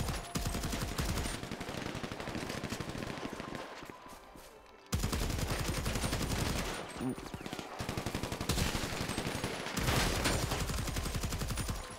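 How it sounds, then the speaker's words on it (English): Heavy sustained automatic gunfire in a military roleplay shooter game, dense continuous rattling bursts with a brief lull midway, loud and close, with voices talking over it. "We taking heavy fire at the main labs."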